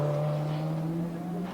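Group A touring cars racing at the 1985 Australian Grand Prix support race in Adelaide, a loud, close engine drone holding a steady pitch as the cars pass, with no voices over it.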